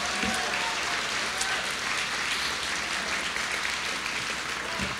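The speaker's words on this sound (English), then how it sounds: "Let's give another round of applause to all of our finalists." Steady, dense applause from a crowd fills the space, even and continuous throughout, with no pauses.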